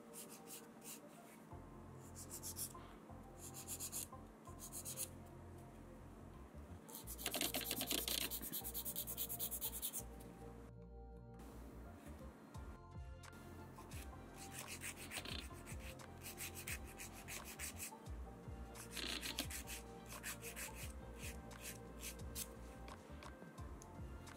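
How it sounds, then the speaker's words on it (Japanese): Fingernails are filed down to remove nail polish, a close, steady series of dry rubbing and scraping strokes that continues throughout, with a couple of brief pauses and a louder burst of grinding partway through. "削っていきます。"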